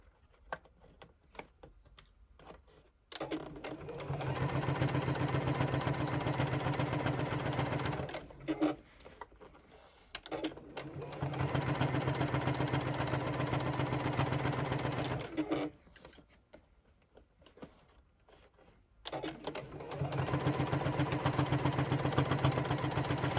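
A JUKI sewing machine stitching fabric for a bucket hat runs in three steady, close humming stretches with short quiet pauses between them.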